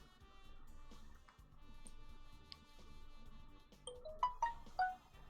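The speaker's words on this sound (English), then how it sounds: "Sorry, that's my phone." A mobile phone ringtone breaks in over game music, a bright run of rising electronic tones that swells loud at the end of the stretch.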